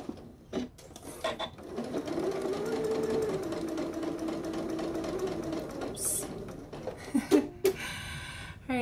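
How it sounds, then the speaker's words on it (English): Sewing machine stitching in the ditch along a Hong Kong seam, joining bias tape to the seam allowance, running steadily at a moderate hum for several seconds between quieter handling noises and clicks. "So I'm going to be stitching right in the ditch between the seam allowance fabric and the bias tape fabric."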